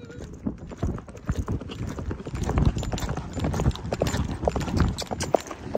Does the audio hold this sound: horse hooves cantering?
yes